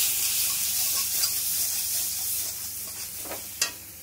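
Spices with ground cumin are sautéed in a pan, producing a close, steady sizzle and hiss with a few sharp scrapes and clinks of the utensil near the end, and no speech.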